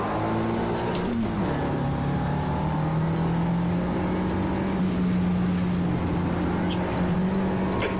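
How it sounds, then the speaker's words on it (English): In the AMS2 racing video game, a race car engine drones steadily through a continuous, fairly loud run, its pitch dipping once early then holding, as a rival car approaches. "There's a car approaching."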